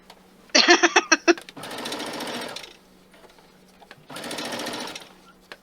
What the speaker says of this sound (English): Maybe when you set this hard deck, Tony, you made everybody quilt faster